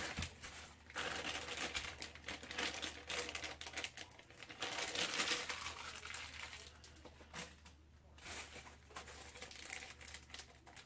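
A plastic bag holding a Trex 700XN helicopter head assembly being cut and pulled open, faint crinkling and snipping close by against a low steady hum, no voices.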